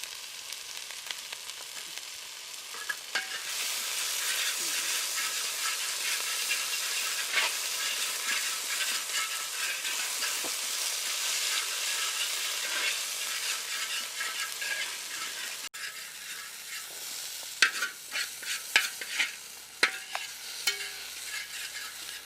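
Crushed garlic and ginger fry in hot oil in a pan over a wood-fired stove while being stirred, a dense, continuous sizzle with scraping stirs that thins near the end into scattered crackles and clatters.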